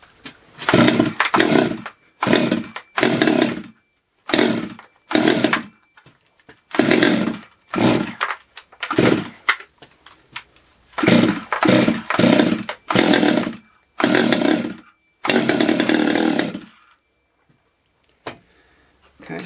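A Holzfforma G111 chainsaw, a Stihl 200T clone, runs after a carburetor adjustment, repeated short high-revving bursts of a close two-stroke engine separated by brief pauses, with no speech.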